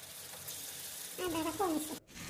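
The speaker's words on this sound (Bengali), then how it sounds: "এখন মশলাটাকে ভালোভাবে কষিয়ে নিবে" Spice paste with turmeric and chili powder sautéing in a pan for beef liver curry (kolija bhuna), giving a steady close sizzle that swells midway, with a voice briefly heard over it.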